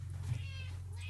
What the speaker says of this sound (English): Did you hear her meowing like violently in the background?